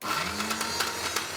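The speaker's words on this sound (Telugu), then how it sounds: "ఇప్పుడు దీన్ని కొద్దిగా వేసి మిక్సీ పట్టేద్దాము" A kitchen mixer grinder whirs steadily as it grinds dal batter for holige, a continuous close motor whine with faint pulsing and no voices.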